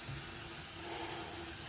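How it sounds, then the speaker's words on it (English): Tap water running steadily onto a shaving brush held under the stream, a continuous, fairly loud hiss and splash close by with no talking. "I'll hold my brush under the water as it's running"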